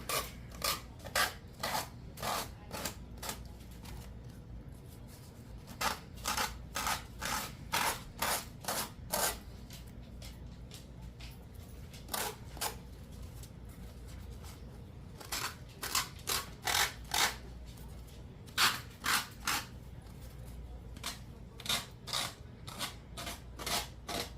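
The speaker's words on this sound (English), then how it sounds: "We got to sand downwards." Dollar Tree wood sanded by hand with strokes running downward, making repeated sharp rasping scrapes in quick bursts. Each run of strokes is separated by short pauses, and the sound is close and fairly loud with no talk.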